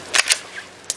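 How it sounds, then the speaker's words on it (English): A pistol pulled from cold water after a submersion test gives a few light, sharp clicks of a weak primer strike, spaced apart and fairly faint, with little else around them. "Light primer strike."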